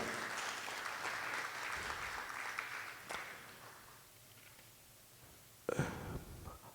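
Audience applause at a 40th anniversary celebration, a steady wash of clapping that fades over several seconds before a brief fresh burst near the end.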